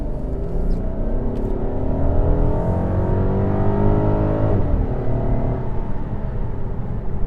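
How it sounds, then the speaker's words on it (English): A 2018 Volkswagen Passat GT with a V6 and dual exhaust accelerates under full throttle, its engine note climbing steadily through the gears with a loud, close, deep rumble and no talking. "So it doesn't sound too bad for a V6 sedan, does it?"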